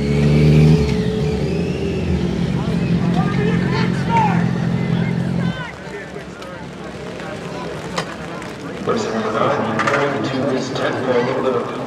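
Racing motorcycles at the Loudon Classic during Bike Week rev and whine on a wet track, their engines rising and falling at mid distance under steady commentary from people talking.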